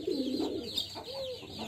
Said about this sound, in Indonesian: Ini ada satu ekor merpati saya yang kurang sehat.